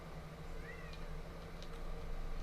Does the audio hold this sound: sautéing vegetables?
no